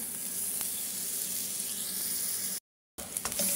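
Butter sizzles steadily in a hot pan for buttered garlic mussels, a constant close frying hiss that cuts off briefly to silence, then resumes with a few crackles.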